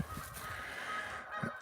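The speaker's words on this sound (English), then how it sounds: "Here's the geese down there honking." Geese honking down below near a wooded property where cherry burl is being cut, several faint, distant calls spread across a quiet background with one clearer honk near the end.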